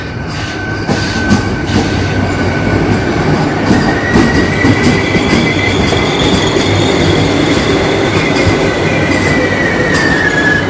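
A new air-conditioned suburban electric train in Chennai rolls in loud and close, a steady rumble of carriages with high metallic wheel squeal drawn out over it.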